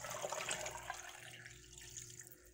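Water runs steadily into a hot cooking pot as two cups are added for preparing rice, a continuous splashing pour that is fairly loud at first and then eases off, with no talking.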